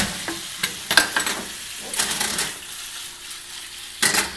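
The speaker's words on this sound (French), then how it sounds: "je fais dorer la viande et puis on va venir insérer la viande ensuite avec l'oignon" Beef browning in a pan for Hungarian goulash, with soft sizzling and frying noise plus a few stirring scrapes and clinks of utensil against the pan, steady and close.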